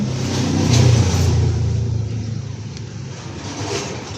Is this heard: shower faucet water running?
no